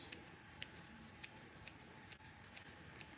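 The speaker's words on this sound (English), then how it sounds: "And I'm only trimming the ends." Scissors snip the ends of knotless braids, about seven quick, crisp cuts at an even pace, fairly close over a faint background hiss.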